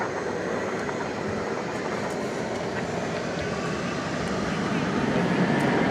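An American Airlines Airbus A321neo passing at an airport at night: a loud, steady broadband roar of jet engines that holds strong and swells slightly toward the end.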